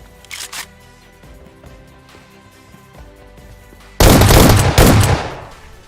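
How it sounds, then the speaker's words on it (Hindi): Shotgun blasts in a shooter video game: after quieter background game sound with a few faint pops, a loud, heavy burst of shots hits near and close, with a second blast that trails off over about two seconds. "तो यहाँ मैं शॉटगन लेता हूँ"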